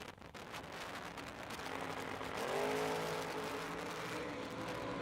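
Drag race cars, a Pontiac and a Chevy II, launch at a track, engines roaring up from a distant rumble into a loud rising rev that then holds steady, no talking.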